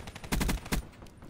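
Two quick bursts of Black Ops 3 gunfire, likely from a silenced shotgun, stand out close and loud over a quieter game background with no talking.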